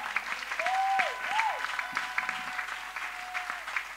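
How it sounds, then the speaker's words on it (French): A church congregation clapping together in steady applause, moderately loud and sustained, with a voice calling out over it. "On acclame le Seigneur."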